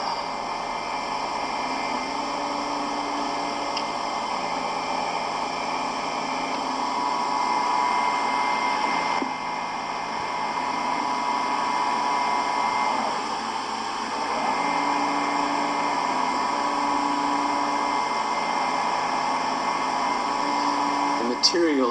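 A Stratasys FDM 3000 3D printer lays down material with a continuous whirring, droning hum broken by faint motor shifts. Someone talks over the machine noise now and then.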